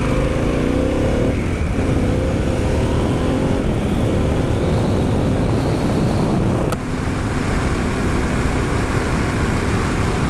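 Harley-Davidson Pan America motorcycle riding on a hot day, with a steady, loud roar of engine and wind noise throughout and a brief dip partway through, with no talking.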